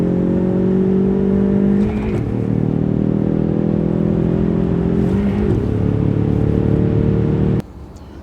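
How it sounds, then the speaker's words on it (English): A Ford Mustang EcoBoost with the Performance Pack revs hard and accelerates, its engine note climbing steadily and dipping briefly at two gear shifts before cutting off abruptly near the end; loud and close, with no talking. "stomp the throttle down, maximize the boost, and get a couple of fun shifts"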